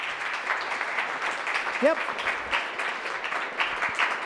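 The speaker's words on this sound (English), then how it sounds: "he needs to hear more applause" An audience applauds for the mascot Petey, a steady patter of clapping under a speaking voice, with a brief whistle-like squeal partway through.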